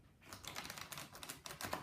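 Playing cards for the two-player game Lost Cities are dealt out onto a table, a quick run of light flicking, slapping taps close by and fairly quiet.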